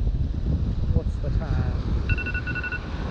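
A phone alarm beeps on an early-spring striper fishing trip by the ocean, with a few short electronic tones followed by a steady repeating double chirp, faint under wind and background noise, with a voice speaking briefly.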